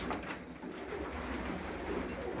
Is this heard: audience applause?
no